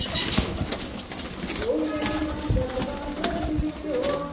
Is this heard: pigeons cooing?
yes